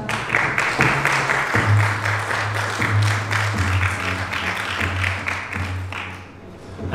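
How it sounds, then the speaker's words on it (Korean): An audience gives a big round of applause as the next presenter takes the stage at a Hyundai All New Nexo product launch. The clapping is moderate and steady over a low hum and fades toward the end. "큰 박수 부탁드립니다."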